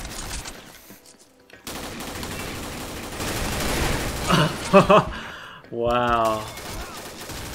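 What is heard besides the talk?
gunfire from the video game Combat Arms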